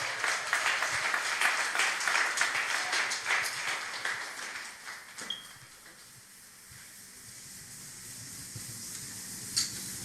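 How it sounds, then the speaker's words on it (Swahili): A crowd claps in a dense burst for about five seconds at a graduation ceremony in Kisumu, then the applause fades out into quiet room noise. "Makofi tafadhali."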